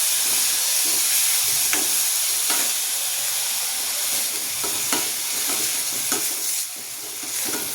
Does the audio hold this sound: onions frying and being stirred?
yes